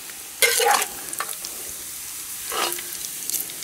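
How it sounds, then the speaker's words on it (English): Floured, seasoned chicken frying in a Dutch oven gives a burst of sizzling and clatter as pieces go in, followed by quieter crackling frying, close by with no talk. "get frying the chicken."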